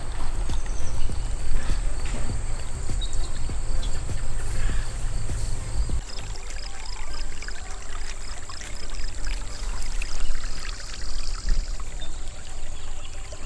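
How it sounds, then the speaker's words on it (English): Water rushes steadily down a muddy backyard ravine on a dirt bike track, a continuous close pouring and trickling sound throughout. "Once the water flowed for a while,"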